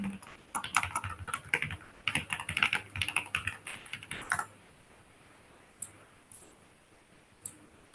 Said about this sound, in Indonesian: Aku ketik di komen lah ya.